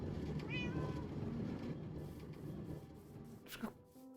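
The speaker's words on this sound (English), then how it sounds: "The cat has breached containment." A cat meows a few times in a Minecraft-style video game, with short, fairly close cries over a steady game background and a brief sharper sound near the end.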